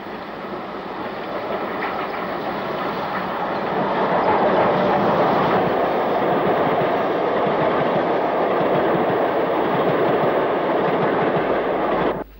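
Steam locomotive 44888 hauls a special train past Earlestown on the Liverpool and Manchester Railway in July 1968, a loud continuous rumble with wheel clatter that swells midway and holds steady before cutting off abruptly.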